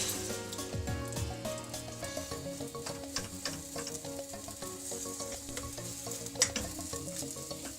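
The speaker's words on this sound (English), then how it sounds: "So what we want to do is we want to scramble the egg easy, as opposed to scrambled hard." Egg being scrambled in a hot pan for tofu fried rice, frying with a steady loud sizzle and intermittent scraping and stirring clicks throughout, no talking.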